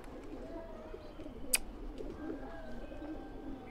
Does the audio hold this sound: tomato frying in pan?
no